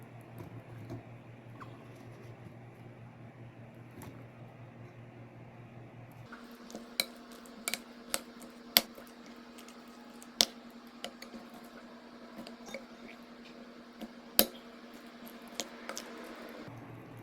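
Cauliflower pieces are mixed into batter in a bowl, giving quiet, soft squishing with scattered sharp clinks and ticks of a utensil against the bowl, close and without talk.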